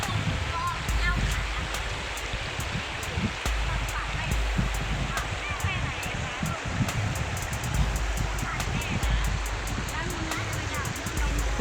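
A waterfall at Khlong Maduea in Nakhon Nayok, running low in the dry season, roars as a steady broadband rush of water that fills the whole clip at an even level, with no talk.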